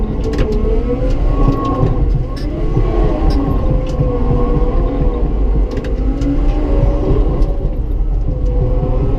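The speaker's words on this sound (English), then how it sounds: "I'm going to hit it with the other corner of my blade to get the other side of it dug out" A bulldozer digs around a tree stump with the corner of its blade, its diesel engine rumbling loud and close in a steady drone with low grinding throughout.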